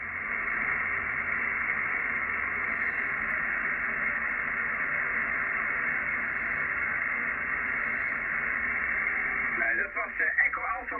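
An Icom IC-756 HF/50 MHz amateur radio transceiver receives a band-limited, hissy signal with steady background noise, a voice talking through it, and a burst of warbling interference near the end.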